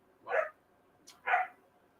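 Two short, close barks from a pet dog about a second apart, clear against a quiet indoor room with no talk.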